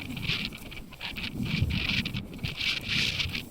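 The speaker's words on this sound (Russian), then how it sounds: "Без учета этого ветра." Cold winter wind buffets the microphone on a gravel bike ride at minus 17 degrees, a loud continuous gusting roar that swells and eases in uneven waves for the whole stretch, with no voices.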